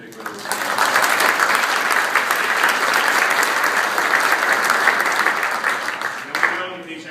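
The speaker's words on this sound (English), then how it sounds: "we give them another big, big round of applause." Audience at a city broadband challenge event bursts into sustained applause, a dense wash of clapping lasting several seconds before tapering off, with some crowd voices mixed in.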